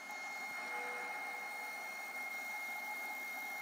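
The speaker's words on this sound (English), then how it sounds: "So we'll put this back on the lathe" A wood lathe spins a cherry piece set with soapstone inlay, producing a quiet, even motor whine that holds steady throughout.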